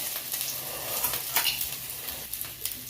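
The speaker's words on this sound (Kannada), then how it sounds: "ಎಣ್ಣೆ ಹಾಕಿದ ಮೇಲೆ ಎರಡು ಪೀಸು ಚಕ್ಕೆ ಮತ್ತು ಶುಂಠಿ ಬೆಳ್ಳುಳ್ಳಿ ನೀರುಳ್ಳಿ ಹಾಕಿಕೊಳ್ಳಿ" Cinnamon, ginger, garlic and onion fry in hot oil for street-style masala puri, a close, steady sizzle with occasional stirring clinks and crackles.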